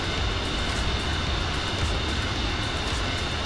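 Four jet engines of a Boeing 707-320C in Microsoft Flight Simulator 2024 make a steady, loud, broadband roar and rumble, even and unbroken throughout, with no voices over it.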